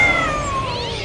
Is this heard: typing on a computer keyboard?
no